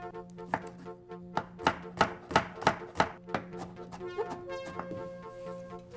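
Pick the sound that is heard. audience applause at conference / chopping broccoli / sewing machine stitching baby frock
chopping broccoli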